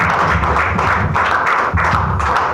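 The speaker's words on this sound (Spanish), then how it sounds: "Denle un fuerte aplauso a nuestro Señor Jesús en esta noche." A church congregation clapping at a night service, dense and fairly loud applause with uneven rhythmic claps and thuds sustained throughout, no speech over it.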